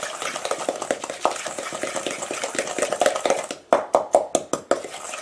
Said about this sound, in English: I'm going to add my sugars, my white sugar and my brown sugar. And then I'm going to mix that together.